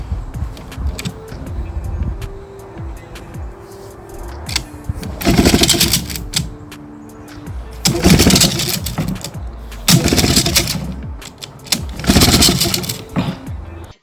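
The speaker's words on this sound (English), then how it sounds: "So I'm going to fire up the engine and you can see" An outboard boat motor cranks several times in loud, rough bursts, sputtering and catching between attempts, with a faint low idle and clatter in the gaps.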